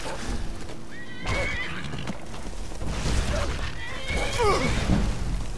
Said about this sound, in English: Where's my horsey?